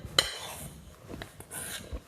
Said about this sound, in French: Je vais ensuite mélanger ma farine et ma levure dans ma préparation de base.